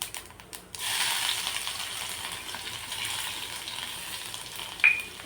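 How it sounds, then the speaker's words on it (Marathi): Crushed garlic, fenugreek seeds and cumin hit hot oil with a sudden crackle, then settle into a steady close sizzle, with a brief metallic spoon clink near the end. "हा ठेचलेला लसूण टाकायचा"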